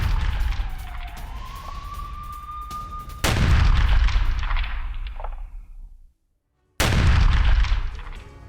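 Russian Iskander missile strike on Kanatovo airfield in Ukraine: a rising whistling tone gives way to a loud, sudden blast with rumbling decay, a brief silence, then a second powerful explosion.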